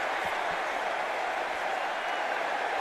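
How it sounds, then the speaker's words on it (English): Indiana football fans roaring in Hard Rock Stadium during a national championship game, a steady broad wash of crowd noise and applause at even loudness throughout. "Here comes the Indiana crowd"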